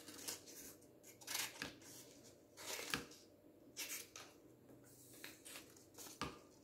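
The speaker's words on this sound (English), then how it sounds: "you're gonna get your scissors and you're gonna cut outside your lines" Scissors cutting out paper shapes for straw gliders and rockets: a series of faint, crisp snips in irregular rhythm, close and quiet, with no talk.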